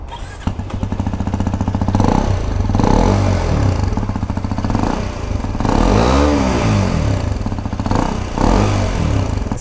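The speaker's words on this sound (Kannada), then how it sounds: "ನನ್ನ ಗಾಡಿ ಎಕ್ಸಾಸ್ಟ್ ಸೌಂಡ್ಗೂ ಇದಕ್ಕೆ ಎಕ್ಸಾಸ್ಟ್ ಸೌಂಡ್ಗೂ ಡಿಫ್ರೆನ್ಸ್ ಇದೆ" A Hero XPulse 210 motorcycle's exhaust rumbles close by as the engine is revved in repeated swelling pulls, then drops back toward a throbbing idle between blips.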